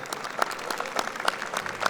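Audience applause for the panelists at the close of a public panel on open contracting and procurement integrity, a steady patter of many hands clapping together, moderately loud with no talk over it.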